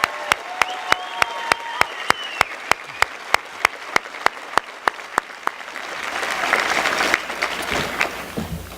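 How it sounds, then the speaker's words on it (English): A commencement audience applauds steadily, dense clapping filling the space with a few sharper claps standing out, swelling slightly toward the end with some crowd noise. "they deserve a big round of applause"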